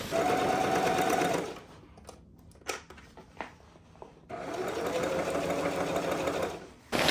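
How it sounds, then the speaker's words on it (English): A sewing machine runs in two steady stretches, stitching about half an inch in along the edge of a vinyl grocery bag with the handles tucked in, separated by a quieter pause with a few clicks and handling noises. "I'm gonna sew about a ½ inch along the edge"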